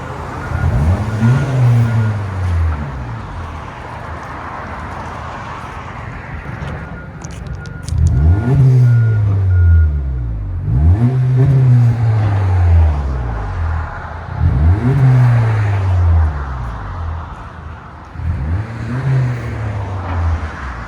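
A 2024 Honda Civic 2.0L with a muffler-delete exhaust revs in five evenly spaced, deep, loud blips, each quickly rising and falling back to a rumbling idle.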